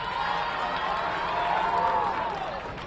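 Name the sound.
basketball crowd cheering in the gym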